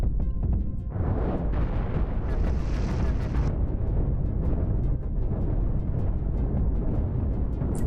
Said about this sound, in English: Oh, they're firing the first salvo.